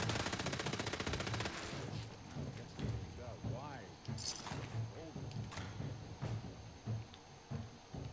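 Automatic gunfire in the Fallout 4 video game: a rapid stream of shots at the start, then scattered bursts and single cracks among other game effects, with a voice talking over parts of it.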